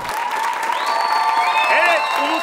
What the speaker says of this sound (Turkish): Meraklı Karadeniz ailesi, Albayrak ailesi geliyor alkışlarınızla.